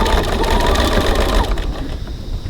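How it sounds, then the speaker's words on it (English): Sewing machine stitching a fabric seam at a 2.4 stitch length, a fast close mechanical whir for about a second and a half before slowing and trailing off. "Just going to start a little bit back from it in case I've popped any stitches, and stitch."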